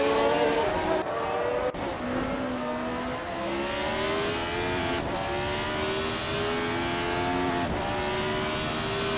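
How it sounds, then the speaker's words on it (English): 1971 Formula One race cars in a racing video game run close together at Bremgarten, engines wailing loudly and rising in pitch, with repeated sharp gear shifts and overlapping cars. "The F1 1971 cars are surprisingly close at Bremgarten"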